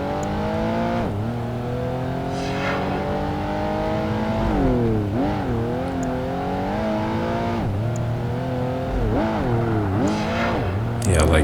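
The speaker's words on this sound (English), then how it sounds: "Here again the right hander, full throttle." A race car engine in Project Gotham Racing 2 screams at full throttle, climbing in pitch through the gears. Its whine dips briefly at each shift and rises again, loud and continuous, with a voice talking over it.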